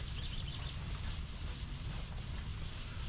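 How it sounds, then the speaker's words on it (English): Shiny paint on a steel Squarebody K5 Blazer rear floor panel is scuffed with a rapid, continuous rasping rub, close and steady for the whole clip. "it's easier to scuff it up now before I put it in there"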